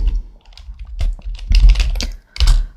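Typing on a computer keyboard, with bursts of clicking keystrokes in an uneven rhythm, close and fairly loud, with no talking.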